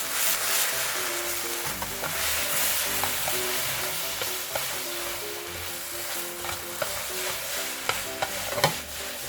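Chapaguri noodles, made with Chapagetti, are stir-fried with sauce in a pan, sizzling loudly and continuously up close while being stirred, with occasional scraping clicks from the utensil.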